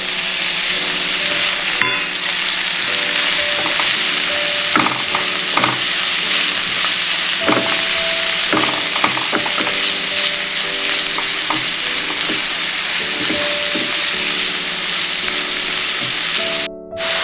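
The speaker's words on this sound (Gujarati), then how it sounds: "આપણે આ લીલી ડુંગળી છે એ ઉમેરી દઈએ અને એને આપણે સાંકળી લઈએ" Green onions sauté in a pan with a loud, continuous sizzle and crackle, punctuated by occasional scraping stir strokes and clinks, steady throughout without speech.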